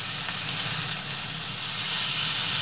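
Saury searing in oil in a frying pan over medium-low heat gives a steady, close, even hiss and sizzle that holds without a break.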